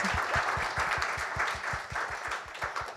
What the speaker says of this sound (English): A round of applause for the brand ambassadors.